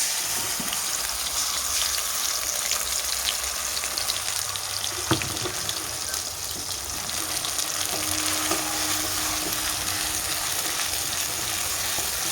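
Ginger, cumin and garlic paste fries in hot oil in a pan, a dense, steady sizzle up close with an occasional sharp stir or clink.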